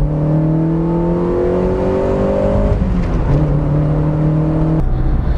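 Mazda2 gasoline car accelerating on an expressway, its engine note rising steadily through the revs in two climbing pulls separated by gear changes, loud and close from inside the cabin with road noise underneath.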